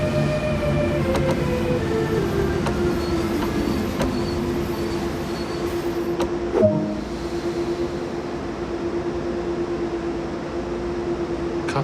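A simulated train rolls along the Hamburg–Lübeck main line in Train Sim World 2, a steady rumble with a sustained squealing tone, faint repeated clicks and a brief clunk partway through, with no voices.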